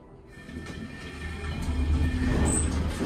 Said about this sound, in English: Let's go one more time because I want to hear the motor.